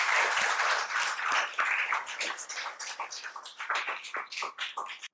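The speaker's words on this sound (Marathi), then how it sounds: "एकदा इंडियन नेव्हीसाठी आपण जोरदार टाळ्या देऊया." Enthusiastic audience applause in honour of the Indian Navy, a dense, steady crackle of many clapping hands that stays loud throughout, with a few sharper individual claps standing out near the end.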